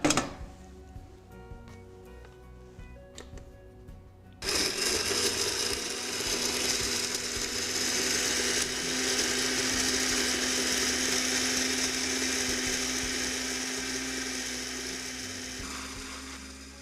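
A blender whirs loudly and steadily, blending chicken feet jelly with onion and its skin, starting abruptly after a few seconds of quieter mechanical ticking and running continuously to the end.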